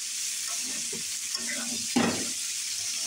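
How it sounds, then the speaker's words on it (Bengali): Potatoes frying in a pan, a continuous close hiss of sizzling oil with a few soft stirring knocks and one louder scrape near the end, no voices. "এখানে আলু ভেজে নিচ্ছি"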